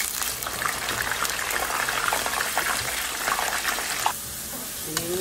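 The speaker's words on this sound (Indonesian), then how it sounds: "Lanjut goreng yang sisa tadi." Leftover eggplant fries in a pan of hot oil, a steady close sizzle with bubbling crackle that continues throughout, with a slight clunk near the end.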